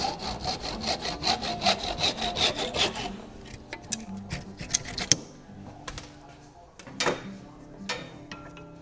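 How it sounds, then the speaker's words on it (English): Tenon saw cutting through wood for small model racetrack pieces, a close, rhythmic run of back-and-forth strokes, then scattered knocks and clatter as pieces shift. "I'll just get cutting those out with the tenon saw now"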